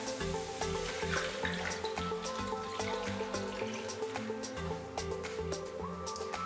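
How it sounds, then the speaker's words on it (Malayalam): About 400 ml of milk pours into a pan of sautéed carrots, giving a soft, wet, splashing trickle with faint sizzling underneath. Gentle tonal music plays steadily in the background. "ആ പാല് ചേർക്കാം."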